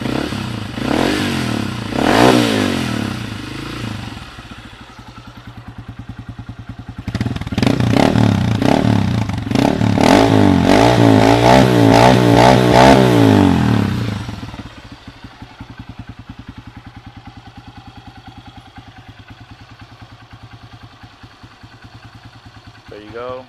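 A Honda CRF150F dirt bike engine revs up close in two rising, warbling bursts, the second long and loud, then drops back to a quieter, rapid, even idle, with some clatter and voices around it.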